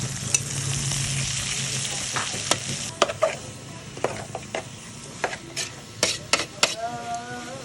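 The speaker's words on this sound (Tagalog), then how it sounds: "i-prito natin ng konti." Pork intestines sizzle and crackle as they fry in a pan while utensils scrape and clatter against it in irregular strokes, close by.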